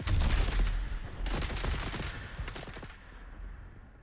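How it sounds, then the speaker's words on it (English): Rapid bursts of gunfire crackle continuously in the Dune Awakening video game, a dense volley of shots and automatic fire that stays loud before easing slightly toward the end. "Guys, can you stop shooting me for a minute?"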